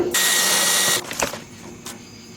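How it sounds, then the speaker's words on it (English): A power driver whirs loudly for about a second while removing casing screws from an LG LW2516ERA window air conditioner, followed by a few brief clicks and rattles of the screws and casing at close range. "now remove your casing screws"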